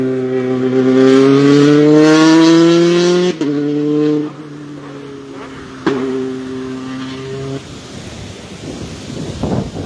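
A Renault R5 race car climbs the Pourville-sur-Mer hill climb course, its engine screaming loudly through rising gears with sharp shifts, passing close before fading away amid wind noise.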